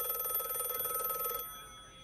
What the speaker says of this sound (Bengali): টেলিফোন বেজে উঠতেই তিনি রিসিভ করে বললেন